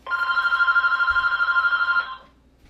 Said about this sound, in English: Alright, phone call.